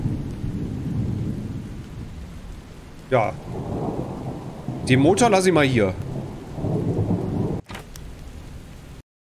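Stormy weather in the survival game Expedition Zero, with a steady wash of rain and low rumbling thunder rolling under someone speaking briefly, plus a few sharp in-game clicks and sweeps.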